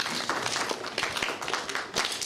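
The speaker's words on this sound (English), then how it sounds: "Thank you, round of applause." An audience at a municipal budget meeting gives a round of applause, with dense, continuous clapping at moderate loudness throughout.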